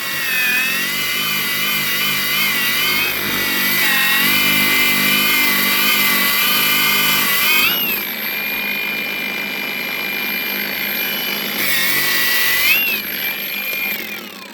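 An angle grinder grinding a meteorite at low speed, a steady high whine with a wavering pitch that runs close and loud throughout, with a brief shift in tone partway through.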